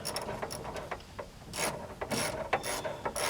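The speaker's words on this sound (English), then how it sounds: "Too easy for a ratchet and too hard for fingers. But we'll have to do the ratchet thing." A hand ratchet turns bolts in a series of quick clicking bursts, close and crisp, broken by brief pauses between strokes.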